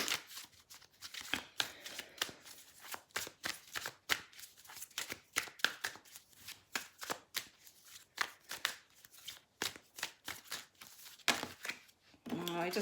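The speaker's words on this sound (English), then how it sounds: "So I'm just going to get one more card here." Tarot cards being shuffled by hand, close and soft: a long run of quick, rhythmic riffling and slapping bursts with brief pauses between, ending in a rustle.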